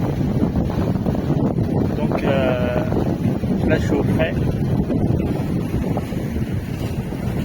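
North wind blowing across a sailboat under sail at sea between the Greek islands of Kos and Astypalea, a constant rushing buffet over the microphone with someone speaking through it.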